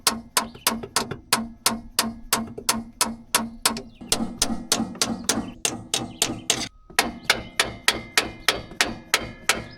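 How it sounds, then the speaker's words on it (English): Hammer tapping on a stuck starter pinion of a 1950s Caterpillar that hasn't run in years, a rapid, steady run of sharp metallic knocks close by, briefly pausing before resuming, with no talk. "Just do a little bit of tappy tap tap here."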